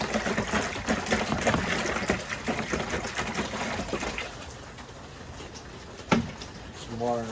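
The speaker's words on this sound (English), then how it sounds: "get some water in our bucket over here" Water splashes and trickles into a bucket set up for priming a Graco paint sprayer rig, a busy close sound with a sharp knock near the end, while a person talks over it.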